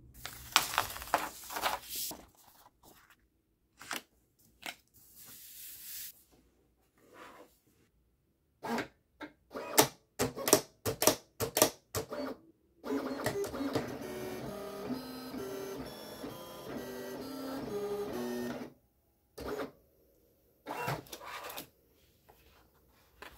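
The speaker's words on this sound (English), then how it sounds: "If you're running an older model Silhouette, just hit send and that will start your machine." Silhouette Cameo 5 cutting machine running a cut: bursts of motorized whirring and carriage movement, with rapid on-off pulses, a sustained stretch of busy mechanical cutting, then a few short final moves, fairly close and with no talking.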